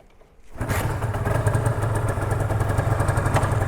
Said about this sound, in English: it's a 2-stroke V-twin kickstart only sport bike